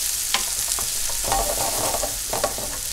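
Red onion browning in a pan, a dense close sizzle with intermittent stirring scrapes and light clicks, steady and fairly loud throughout.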